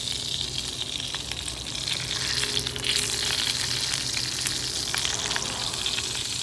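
A T-bone steak with little fat sears in a hot pan, bone pressed to the heat, giving a steady close sizzle and crackle that swells slightly partway through and holds at an even level.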